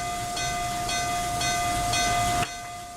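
Train passing in the RO-Scale Sandbox game, a steady rolling rumble with rhythmic wheel clicks and a sustained whistle tone, loud and continuous, then dropping off abruptly near the end.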